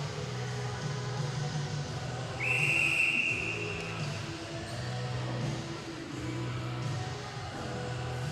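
A referee's whistle at a U18 ball hockey game between Switzerland and Italy gives one sharp, steady blast of about a second, loud above the constant arena noise and murmuring crowd.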